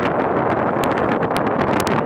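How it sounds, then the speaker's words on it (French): Steady, strong cold wind buffeting the microphone, a continuous broadband roar with gusty rustling and no voices. "C'est du vent bien froid."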